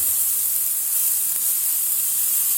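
Chopped onion hitting a hot pan for a New York style chopped cheese sandwich, giving a loud, steady, close sizzle that hisses evenly throughout without any talking.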